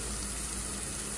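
Taro root and dried shrimp curry frying in a pan, a steady dense sizzle with a bubbling, watery hiss that stays constant and close throughout, with no voices.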